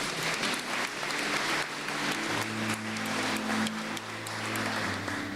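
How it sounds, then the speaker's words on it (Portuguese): A church congregation at a Baptist service applauds in a dense, continuous wash of clapping, with sustained organ or keyboard notes rising underneath midway through. "Você pode aplaudir o Senhor?"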